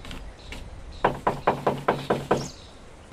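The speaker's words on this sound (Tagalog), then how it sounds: "May kumakatok." Seven quick, sharp knocks on a door in a Tagalog radio-style drama, evenly spaced in a firm run after a couple of softer taps, close and clear over a quiet room.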